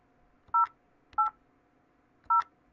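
Three separate telephone keypad DTMF beeps sound at a measured pace while a card expiration date is entered on an automated banking phone line, each tone short, clear and loud over a quiet background.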